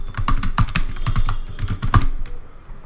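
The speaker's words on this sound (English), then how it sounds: "Let's go ahead and enter the title, 2 states, and the author is Chetan Bhagat" Quick bursts of keystrokes on a computer keyboard type out a book title and author name, close and crisp, with a brief pause partway and no talking.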